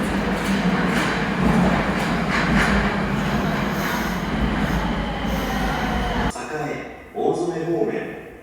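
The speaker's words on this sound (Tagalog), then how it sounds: "We're just waiting for the train." A train pulling into a station in Japan, with a loud rumbling roar of rail cars and wheels that cuts off abruptly near the end, while people chat nearby.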